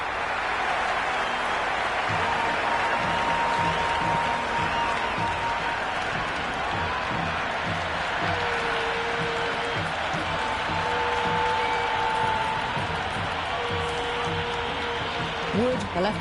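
Stadium crowd in the Cricket 26 video game, a steady wash of cheering, clapping and chanting that runs loud and unbroken throughout, with faint horn-like tones and a commentator speaking over it.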